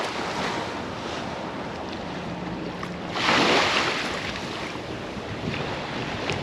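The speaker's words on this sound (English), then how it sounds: "That's a beautiful boat there." A boat passes on open water, its hull and engine rushing up briefly to a louder peak mid-way over constant wind buffeting and surf noise.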